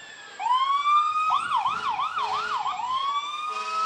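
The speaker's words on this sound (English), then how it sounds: "they got to blare the horns and hit the sirens" A fire truck siren at a Christmas parade in Hayti wails up close, rising into a long tone and then cycling rapidly up and down before settling again.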